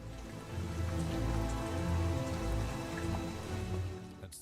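Rain falls steadily during the rainy season, a continuous dense patter of drops on surfaces, fairly loud and even throughout with no voices.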